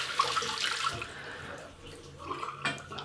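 Water runs briefly from a tap over a Mag-T Delta two-piece, non-adjustable, open-comb double-edge razor to warm it, a soft splashing flow that eases off midway and then returns.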